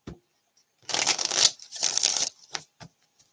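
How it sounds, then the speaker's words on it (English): A deck of cards is riffled in two quick bursts of rapid fluttering, close up, followed by a few soft taps as the cards settle. "one more shuffle"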